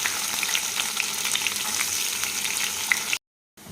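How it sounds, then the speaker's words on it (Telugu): Half a teaspoon of cumin seeds fry in hot oil with onions, a close, busy sizzle with crisp pops and stirring, cutting off abruptly to silence near the end; no talking. "కాస్తంత ఒక హాఫ్ టీ స్పూను జీలకర్ర వేసుకుందాం జీలకర్ర ఒక్కటే ఇంకా తాలింపు గింజలు ఏం అవసరం లేదు తర్వాత ఉల్లిపాయలు వేసుకుందాం"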